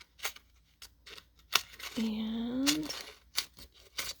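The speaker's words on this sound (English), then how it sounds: "Let me just cut up my leftovers here." Scissors cut leftover cardstock pieces for a handmade card, giving a series of close, crisp snips with a brief sliding cut in the middle, mixed with faint handling noise and a short spoken word.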